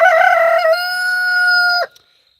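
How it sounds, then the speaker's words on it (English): A rooster crows close by at someone's feet, one loud sustained harmonic call that holds steady and then breaks off sharply, leaving near silence. "That rooster is right at my feet."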